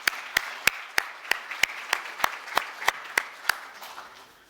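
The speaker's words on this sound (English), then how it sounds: "just give a big round of applause to all of you and to the organizers of this amazing conference" An audience at a developer conference talk about Android Auto claps in a steady, rhythmic beat. About a dozen evenly spaced loud claps ring out over a softer bed of scattered clapping, then fade.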